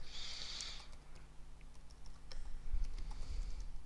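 Someone types an email address on a computer keyboard, a quiet burst of rapid key clicks followed by scattered single taps, close and with no talking.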